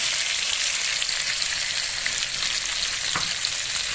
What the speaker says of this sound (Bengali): ঢাকা খুলে দেখুন ভাজাটা আমার প্রায় হয়ে এসছে এবার আমি ভালো করে নেড়ে চেড়ে